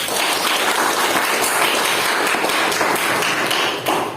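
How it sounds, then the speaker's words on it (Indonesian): Classroom applause from students after a group presentation, a steady dense patter of many hands clapping for about four seconds with no talking. "Beri tepuk tangan untuk kelompok 1."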